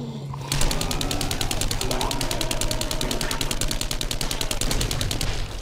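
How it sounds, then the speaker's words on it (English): Zombie cops blowing up in 7 Days to Die, a loud rapid burst of crackling, popping blasts in a fast regular stutter that runs for several seconds before cutting off. "Oh, both cops exploded."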